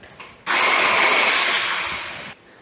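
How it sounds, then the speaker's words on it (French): A kitchen blender purees roasted peppers with garlic cloves, starting abruptly into a loud, steady high-pitched whir that runs for nearly two seconds, then cuts off sharply, with a quiet room before and after. "on va mixer jusqu'à l'obtention d'une belle purée bien lisse"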